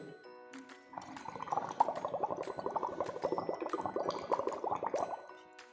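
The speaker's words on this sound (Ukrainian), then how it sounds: "Подуємо у склянку з водою через трубочку." Air blown through a straw into a glass of water makes a steady run of bubbling and gurgling lasting about four seconds. It is close and moderately loud, with no talk over it.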